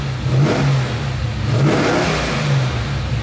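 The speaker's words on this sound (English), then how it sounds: "Obviously we're sitting here idling. And the fan's on" A 1957 Chevy engine idles steadily beside its running radiator fan, a close, continuous low rumble with a whirring layer over it and no voices.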